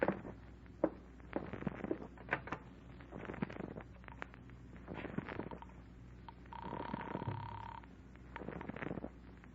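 In an old radio drama, a telephone is used to place a call, heard as scattered clicks and handling noise with a brief ringing tone partway through, faint and close.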